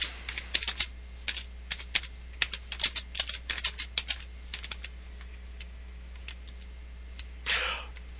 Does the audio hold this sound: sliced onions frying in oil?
no